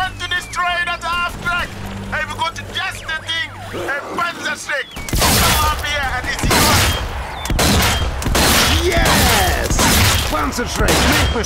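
In the zombie shooter Zombie Army 4, a burst of booming explosions and rattling gunfire erupts halfway through, loud and dense, following a stretch of in-game character voices and music.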